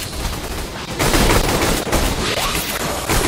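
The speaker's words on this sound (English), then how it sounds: "Trying to fire the gun." Sustained rapid gunfire from a gun in a sci-fi shooter video game, loud and close, with dense overlapping shots and a heavier volley after the first second, no voices heard.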